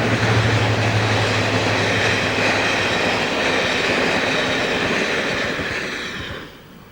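Preserved Deltic D9000 Royal Scots Grey diesel locomotive passing on a non-electrified line, a loud, steady rumble with a low engine drone and rolling wheel noise that fades at the end.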